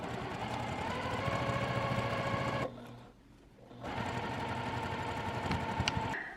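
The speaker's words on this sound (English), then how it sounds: "take this over to your sewing machine and just run a really quick stitch right down here to close up this opening" A sewing machine runs a fast continuous stitch to close the seam opening of a tote bag, a steady close mechanical whir that pauses for about a second midway and then resumes.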